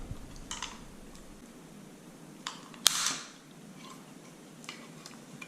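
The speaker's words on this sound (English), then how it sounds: "I got this plastic prying tool in my kit, and I'm gonna open it up" A plastic prying tool works open the case of a Yoto Mini audio player. Faint scraping and small ticks lead up to one sharp plastic snap as the clip releases, followed by a brief rustle.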